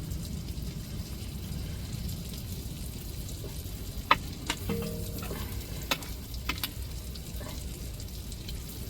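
Squid frying in oil, a continuous crackling sizzle with a few sharp pops and light clinks standing out near the middle, moderately loud and without speech.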